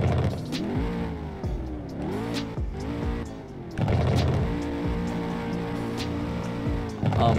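A video game Lexus RC F engine revs hard through rising and falling gear sweeps, loud and close, with brief tire squeals and no talking.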